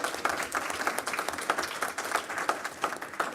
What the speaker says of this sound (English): Big round of applause for everybody who shared.